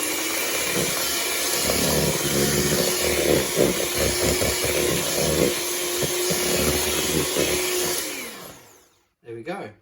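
An electric mixer whirs steadily and loudly while beating Victoria sandwich cake batter, a continuous motor drone that cuts off near the end, with a brief spoken remark over it.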